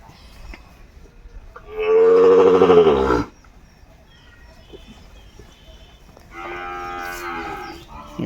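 A Sahiwal cow lets out two long, loud moos nearby, the second a little softer, with quiet background noise between them.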